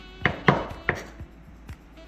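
A knife chops ginger on a cutting board: a few sharp, close knocks at uneven intervals with quiet pauses between them, and no talking.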